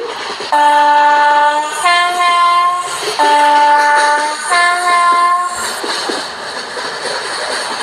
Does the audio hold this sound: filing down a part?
no